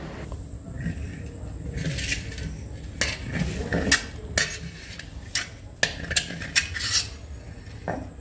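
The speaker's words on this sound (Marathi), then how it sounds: "भांडी घासली आणि दूध तापत ठेवलं" Dishes being washed in a home kitchen: repeated clatter of metal pots and utensils knocking and scraping together over running background noise, close by.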